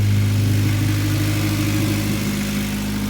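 A cold 1990 Acura Integra engine idles slightly high, a steady close-up drone with strong low hum and no voices over it.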